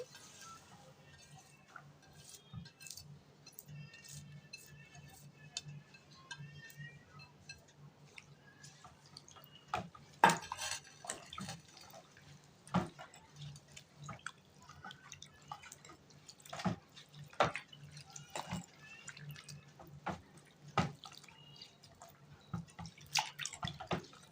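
Fresh fenugreek (methi) leaves are swished and rinsed in a bowl of chilled water, giving a near stream of soft splashes, drips and sloshes with irregular pulses.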